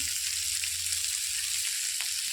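Dried fish curry frying in a pan with turmeric and salt, a steady, close hiss and sizzle that holds evenly throughout.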